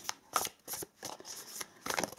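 Tarot cards being shuffled by hand: a few quick, soft riffling bursts close by, papery and crisp, separated by short pauses, with no talking.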